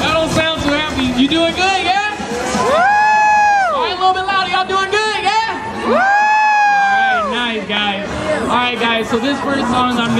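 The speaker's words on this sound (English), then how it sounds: "So I want you guys to make a big round of applause for Isaac Brown!" A crowd at the Big Fresno Fair cheers and whoops loudly for a performer, with long rising yells and shouts over a babble of voices and an announcer speaking.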